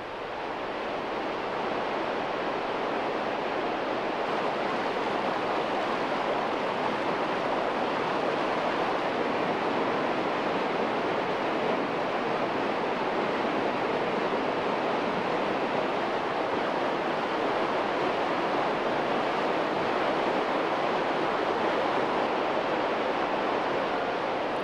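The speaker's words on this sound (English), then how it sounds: "underground streams cut into and wear away their stone beds, deepening them with powerful whirlpools, cascades, and rapids" Dense, continuous roar of an underground stream rushing through a cave over cascades and rapids, steady and full with no breaks and no voices.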